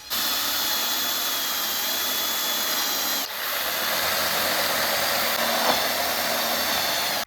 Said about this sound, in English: Underneath it, I'll drill a couple small holes, and then I'll screw in some wood screws